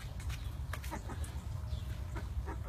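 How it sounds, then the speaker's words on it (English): Young Fibro Olivegger cockerel among farm fowl, giving short clucking calls over steady low barnyard noise, with no crow evident. "Fibro Olivegger rooster right there. He's a cockerel, young cockerel."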